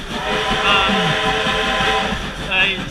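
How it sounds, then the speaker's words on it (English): Two steam trains passing through a suburban railway station, heard as a loud, steady rumble of locomotives and rolling wagons with brief whistle-like tones, continuous for the whole stretch. "there are 2 steam trains passing through"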